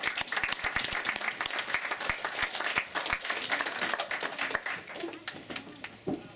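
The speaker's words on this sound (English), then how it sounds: "So round of applause." A wedding crowd breaks into applause after a toast to the bride during the speeches, lively clapping from many hands that is fairly close and fades toward the end, with faint voices mixed in.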